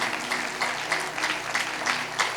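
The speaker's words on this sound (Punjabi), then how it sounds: "ਤਾਲੀ ਮਾਰੀਏ ਜ਼ੋਰ ਦੇ ਨਾਲ" An audience at a sermon with Sant Sunder Lal Ji claps steadily and loudly in a dense, continuous patter that carries on for a couple of seconds without speech over it.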